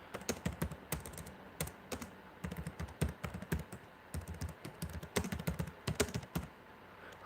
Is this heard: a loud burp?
no